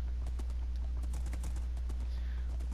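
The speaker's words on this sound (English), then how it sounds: "My horse is so fast." A Minecraft horse's hooves clatter in quick, repeated clip-clop beats over a steady low hum, close and fairly loud throughout.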